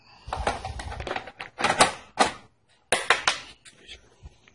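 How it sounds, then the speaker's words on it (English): Plastic clips on the bottom panel of a Toshiba Satellite 17T-B laptop snapping into place, a series of sharp close clicks and rattling taps in short bursts with brief pauses. "You should hear the clicking of the clips."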